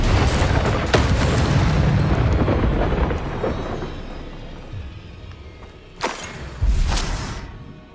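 A roaring fire-spell blast in the Hogwarts Legacy video game, a heavy rumbling burst that fades over several seconds, then two sharper booming hits near the end.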